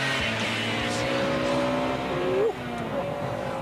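A car engine revs hard and climbs in pitch, then drops briefly at a gear change before pulling again, loud and close throughout.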